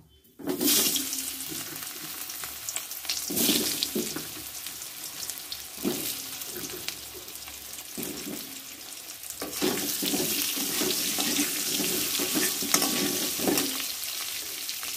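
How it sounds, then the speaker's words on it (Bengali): Potatoes frying in the same oil just used for frying fish, a steady close sizzle with stirring and clatter throughout, rising louder in the second half; no talking. "এবার এই তেলেই আমি আলুটা ভেজে নেব।"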